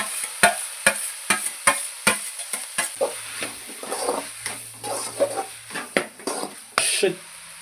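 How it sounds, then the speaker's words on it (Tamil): Tomatoes and green chillies sautéed in a pan for a chicken liver fry: a spoon stirs in sharp, rhythmic scraping strokes over a steady sizzle, close and clear, with no talking. "வாங்க, தக்காளி ஆட் பண்ணிக்கலாம்."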